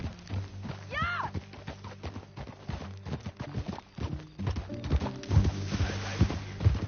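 Hooves clip-clop steadily as a horse is ridden in Red Dead Redemption, the close rhythmic thuds continuing throughout with a brief whinny-like squeal early and voices talking over the trotting.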